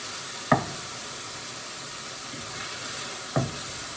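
Food cooks gently in a pan over lowered heat, a soft, even sizzle heard close up, broken twice by brief clinks or taps, with no talking.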